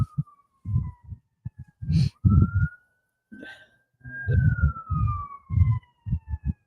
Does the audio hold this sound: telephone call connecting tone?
no